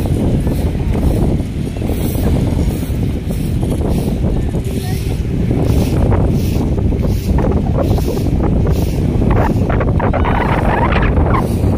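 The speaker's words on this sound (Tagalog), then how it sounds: "Ayan na, malakas ng hangin, mga kababayan. Lumalakas na yung hangin." Strong wind roars and buffets the microphone continuously at Dolomite Beach on Manila Bay, a dense rushing noise with gusts that swell near the end, with faint watery sounds underneath.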